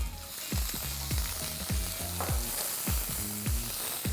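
Finely chopped onion sautés with spices in a pan for an Indian curry, a constant sizzle broken by regular scraping strokes of a spoon stirring at a steady rhythm, close and clear.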